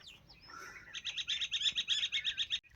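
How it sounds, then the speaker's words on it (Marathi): Birds in a forest near a village where wild black berries are gathered give a rapid series of bright, repeated chirps, about a dozen quick notes in a row. They are close and clear against a quiet background. "तिथं फक्त पक्ष्यांचे आवाज आहेत."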